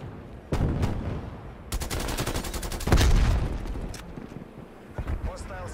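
Sentry turret gunfire in a video game: loud bursts of rapid automatic shots in short volleys, the heaviest near the middle, with sharp single impacts in between and faint in-game sounds.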